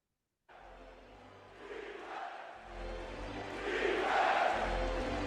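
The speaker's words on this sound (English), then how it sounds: "the crowd is chanting defense" Basketball arena crowd chanting during a Knicks–Nuggets game, a broad wash of voices that starts suddenly and swells louder, with a rhythmic chant building toward the end.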